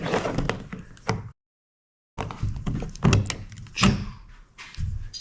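Clicks and thunks of a fish finder transducer mount being fitted onto an Old Town Sportsman 120 kayak during a Humminbird Helix 7 install, a few close knocks separated by a brief silent gap.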